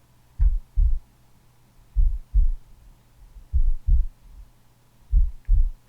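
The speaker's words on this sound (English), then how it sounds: "Your heartbeat seems to get louder" Steady heartbeat in paired lub-dub thumps, low and muffled, repeating about every one and a half seconds over a faint hum; no talking.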